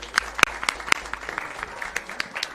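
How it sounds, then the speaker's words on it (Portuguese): Scattered clapping in a legislative chamber for a deputy's birthday, a few sharp distinct claps standing out over a thin patter of hands, fairly sparse and brief. "Uma salva de palmas para o deputado"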